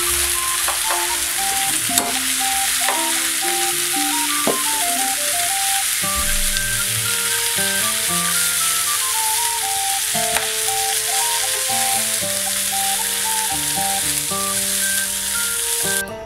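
Tandoori chicken pieces fry in a pan for biryani with a loud, constant sizzle and crackle, while tonal background music plays underneath the whole time.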